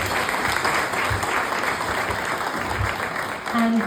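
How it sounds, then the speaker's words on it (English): A room of guests at a tenth-anniversary celebration meal applauds the pub staff who served them, with loud, sustained clapping filling the space and a few voices briefly audible underneath. "So a round of applause maybe for them."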